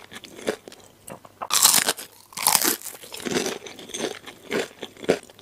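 Close, loud crunching bites into garlic crispy fried chicken, followed by crackly chewing. Sharp crisp bursts recur irregularly over several seconds with no talking.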